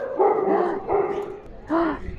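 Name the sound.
dogs barking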